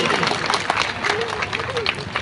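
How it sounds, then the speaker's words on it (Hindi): A hall audience at an All India Asati Mahasabha community program bursts into dense, close clapping throughout, with a voice speaking over the applause. "ताली बजाइए इतनी बड़ी राशि के लिए"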